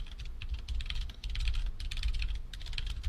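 Rapid clicking keystrokes on a computer keyboard, a quick uneven patter of taps running continuously, fairly close but quiet.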